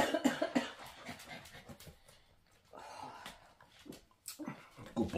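A dog whimpers and snuffles close by indoors, with coughing and breathy sounds and short pauses between bursts.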